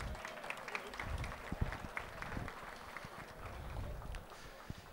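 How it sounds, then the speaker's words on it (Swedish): Applause for the winner of a harness trotting race at a racetrack, steady distant clapping from a crowd, fairly faint with a voice speaking over it. "Varm applåd nu, vinnaren av Västkustens pärla, Emilia Leo."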